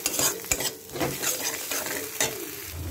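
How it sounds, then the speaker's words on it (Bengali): Salt, turmeric and ground coriander, cumin and chilli are stirred and scraped into frying oil for a cauliflower korma, with repeated spoon strokes over a steady close sizzle. "মিশিয়ে নেব ভালো করে মশলাটাকে"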